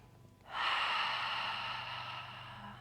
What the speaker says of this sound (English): Emptying it out in the exhale